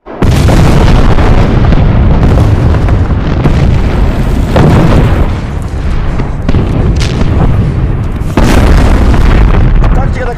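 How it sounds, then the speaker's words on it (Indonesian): Heavy booming artillery blasts roll one after another, loud and close, over a constant low rumble, with muffled voices in the mix. "Tembakan artileri pun diluncurkan."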